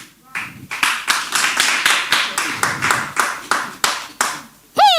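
A comedy club audience claps in a steady, rhythmic beat of about a dozen loud, close claps, ending in a short rising whoop from a voice.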